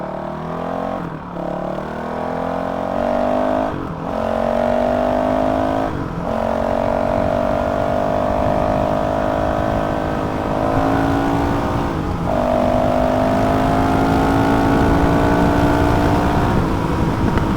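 A Honda 450RL dirt bike with a Graves full titanium exhaust and GET ECU is ridden hard, its engine climbing through gears in rising whines, with brief popping crackles on deceleration between shifts.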